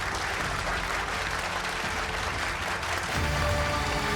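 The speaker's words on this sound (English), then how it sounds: "A big round of applause for the musicians." A crowd at a company annual dinner applauds the musicians steadily throughout, dense clapping that swells slightly louder near the end, with no voices on top.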